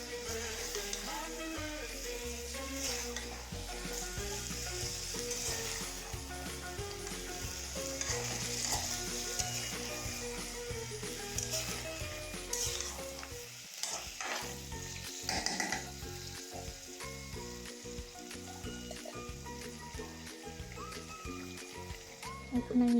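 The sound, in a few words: chicken masala being stirred and fried in a pan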